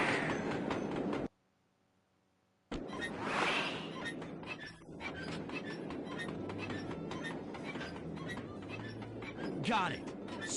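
Rhythmic clickety-clack of a train rolling on rails with rumbling wagons in the video game Sly Cooper, interrupted by a brief silence, with talking voices over the top.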